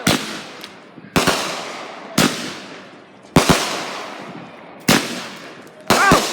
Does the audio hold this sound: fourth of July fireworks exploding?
yes